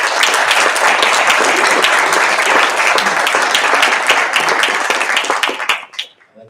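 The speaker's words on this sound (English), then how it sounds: "I like the applause" A meeting audience applauds after a vote for a president-elect, loud dense clapping that holds steady for several seconds and then quickly tapers off to a few last claps.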